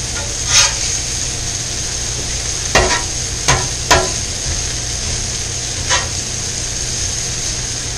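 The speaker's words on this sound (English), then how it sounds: "Stir up some of these onions" Onions fry on a powerful griddle turned up high, a loud steady sizzle broken by several sharp spatula scrapes and taps as they are stirred, with no talking.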